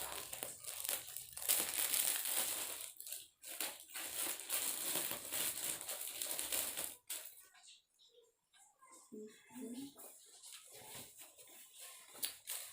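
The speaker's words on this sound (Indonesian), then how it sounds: "Jadi ini langsung aja kita unboxing gamis yang kedua" Plastic packaging for a gamis robe crinkles and crumples loudly and steadily for about seven seconds during an unboxing, then drops to quieter, scattered rustles with faint handling noises.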